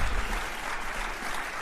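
Dense applause-like clapping from a group, steady and fairly close for a moment, with no talk over it.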